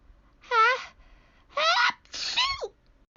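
A cartoon character gives three voiced, drawn-out sneezes, each a separate close burst separated by short pauses, performed by a voice actor.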